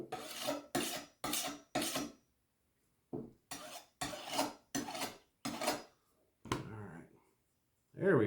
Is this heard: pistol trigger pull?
no